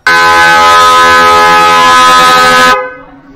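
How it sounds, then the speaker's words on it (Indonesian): A stuck horn on a 2013 Nissan Evalia blares loud and unbroken for nearly three seconds, then cuts off abruptly, leaving a brief fading echo. "Ini klaksonnya macet Pak, jadi dia sering klakson sendiri."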